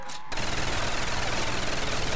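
A Browning machine gun fires in a zombies shooter, starting after a short pause and then rattling on as one continuous, loud, rapid burst.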